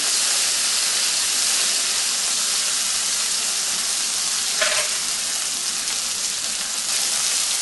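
A cheeseburger patty sizzles steadily in a hot pan, grease crackling in a loud, continuous hiss with one brief sharper pop partway through, no voices.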